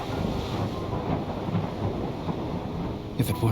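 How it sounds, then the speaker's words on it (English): A thunderstorm in the game Missing Hearts, played aboard the Crimson Cruise ship, gives off a dense, constant roar of rain and wind with low rumbling thunder. A sharper burst near the end cuts through the steady wash. "The storm's getting worse."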